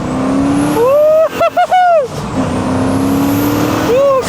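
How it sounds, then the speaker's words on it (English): A cheap turbocharged V8 car accelerates hard and loud nearby, with a rising whistling turbo whine, a quick run of gear changes with brief engine cuts, then the whine building again. "Is that the loudest turbo I've ever heard?"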